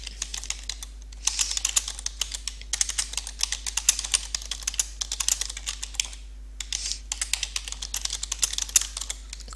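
Rapid keystrokes on a computer keyboard as a tweet is typed, steady clicking bursts with short pauses between, close and clear with a low constant hum underneath.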